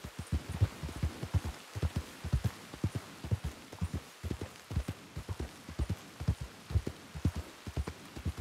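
Rain falls steadily in a western video game, a dense patter of drops under rhythmic hoof-like thuds, with no talking.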